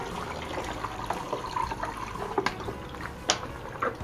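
Rinse water with white vinegar as a colored garment is submerged in it, giving soft sloshing and trickling with a few sharper splashes and drips, close up with no speech.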